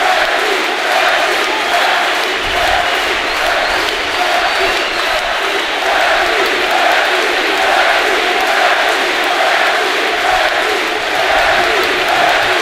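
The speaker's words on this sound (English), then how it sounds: "They are not booing you. They're saying Bruce." A crowd at the Manhattan Beach Grand Prix criterium bike race chants together, a steady broad roar of many voices with rhythmic swells across the whole stretch, loud and continuous.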